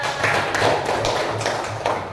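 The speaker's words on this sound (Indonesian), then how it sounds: "Tepuk tangan untuk kelas kita." A classroom of students applauding their class, a short burst of close, fairly loud clapping that comes in quick uneven taps and thuds for about two seconds.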